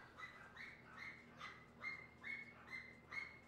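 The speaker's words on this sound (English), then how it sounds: "you guys hear Coco in the background going crazy?" A dog barks repeatedly in the background of an indoor room, about eight quick, evenly spaced barks, faint and distant, with no talking.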